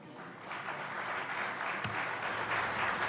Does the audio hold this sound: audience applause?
yes